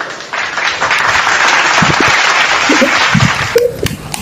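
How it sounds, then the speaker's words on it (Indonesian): Sustained applause from a crowd at an interfaith debate, steady and dense for several seconds, with a few voices and a brief tonal call near the end. "Tepuk tangan untuk Bang Zuma."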